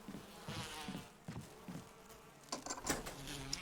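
Bees buzzing in the video game Resident Evil REmake, faint droning insect hum with scattered clicks and sharper bursts toward the end.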